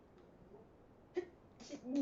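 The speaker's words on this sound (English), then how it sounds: "I think that was a sneeze." A soft, brief sneeze from a person during a tabletop role-playing game session, heard faintly and close, followed by quiet vocal sounds.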